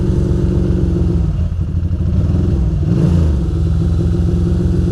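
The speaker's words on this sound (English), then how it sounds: "My bike is acting funny in the rain, obviously, so I have to keep it revving" A Ducati motorcycle engine revs and idles unevenly in wet, rainy city streets, its loud, close rumble rising and dipping as the throttle is worked to keep it running despite water in the coil.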